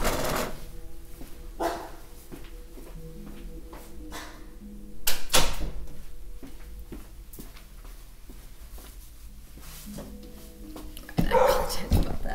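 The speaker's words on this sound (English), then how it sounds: "the barking will stop." A dog barks in short bursts from another room, with household clatter and a door-like thump mixed in, while someone speaks quietly nearby.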